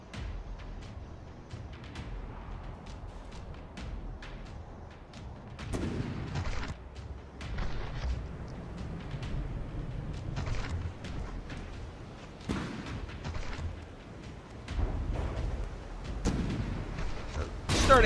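Naval gunfire in the video game From The Depths during a frigate tournament battle, with a primary shell hit blowing off a front turret: repeated booming cannon shots and heavy impacts, sharp and loud, spaced irregularly over a low rumble.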